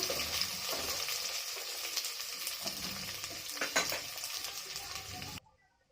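A bowl of chopped onions frying in a pan, a dense, close, even sizzle with occasional stirring scrapes, running steadily before cutting off abruptly near the end, with no talking.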